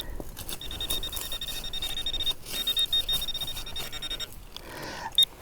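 A metal detector pinpointer in a UK field gives off a loud, steady high-pitched beeping tone, sustained for several seconds with brief breaks and a short sharp chirp near the end.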